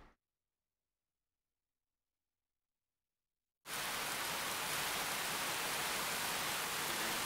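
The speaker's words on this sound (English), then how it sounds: "This is some fucking loud, gentle rain." Loud, steady rain from the video game Fate/Extra begins abruptly after a stretch of silence, a dense, hissing downpour that fills the rest of the moment with no talk.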